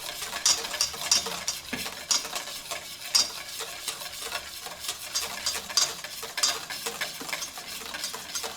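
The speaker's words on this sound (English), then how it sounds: "we're just about done whisking here" Crème brûlée custard being whisked briskly in a bowl, the whisk clicking and scraping close up in a fast, steady rhythm with a wet, frothy swish.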